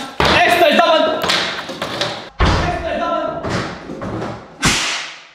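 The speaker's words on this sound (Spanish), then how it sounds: "Reventar a patadas su puerta." Heavy boots kick a door in, with three loud, booming thuds spaced a couple of seconds apart, each followed by rattling and a decaying crash.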